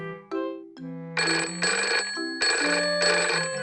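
A telephone ringing in a Peppa Pig video game as a call goes to the garage, heard as short electronic tones followed by two bursts of bright, repeated ringing, loud and clear with no talking.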